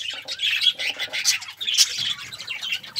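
Pet parakeets in an aviary give a busy stream of high chirps and tweets, close and overlapping, with soft rustling underneath.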